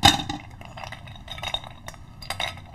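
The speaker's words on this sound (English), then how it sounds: "Can you put a couple of ice cubes in our glasses and I'll show you." Ice cubes drop into drinking glasses in a kitchen, giving a sharp clink at the start and then several lighter clinks and taps, quiet and close.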